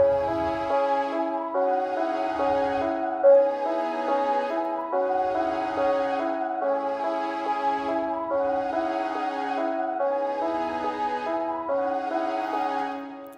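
A female choir sample from Philharmonics sings a sustained "O" vowel with EQ applied, looping through held chord changes in a steady, smooth pattern over soft low thumps.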